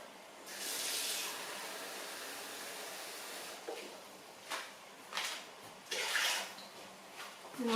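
Water poured into a pot while making corn relish with vinegar, a hissing splashy stream that starts and stops in several short bursts, fairly close and moderately quiet.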